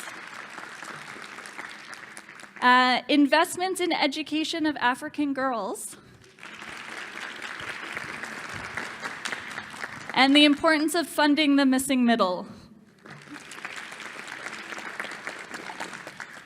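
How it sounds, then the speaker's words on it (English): Conference audience applause fills the room in broad steady waves, alternating with a speaker talking at a podium between the bursts of clapping. "Big round of applause, yes."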